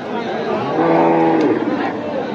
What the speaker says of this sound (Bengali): এই হচ্ছে মাংসের গাভী